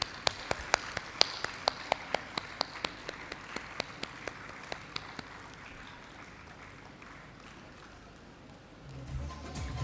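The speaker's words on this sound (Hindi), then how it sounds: "तालियां बजती रहनी चाहिए।" Audience clapping after a Bharatanatyam performance at a Janmashtami stage programme in Hyderabad, a run of sharp distinct claps that thins out and fades, with no voices.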